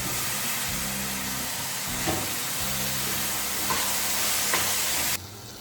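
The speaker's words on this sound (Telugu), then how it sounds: "ఒకటి ఫ్రై చేస్తున్నా" Carrot and potato curry frying in a pan, a steady loud sizzle with a few stirring clinks and scrapes, close up and continuous, no talking.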